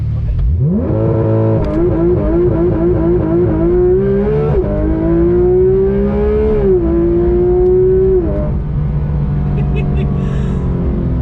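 A car accelerates hard on a demonstration drive, its engine revving loudly with a climbing pitch, a gear change midway and then steady high-rev pulling before it eases off.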